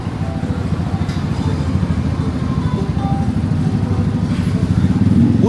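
A motorcycle engine idles and putters close by on a street in Bangkok, Thailand, in a steady low rumble that grows slightly louder toward the end.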